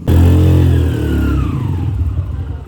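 A heavy motorcycle in Pakistan revs loudly up close, then its engine note drops and recedes as it rides off, leaving a rumbling drone with no speech.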